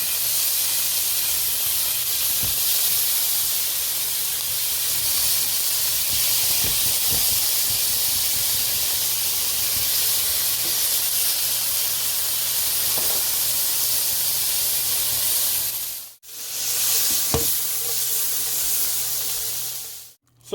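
Chicken sizzles in a hot pan with a strong, continuous hiss, close and steady, briefly dropping out near the end.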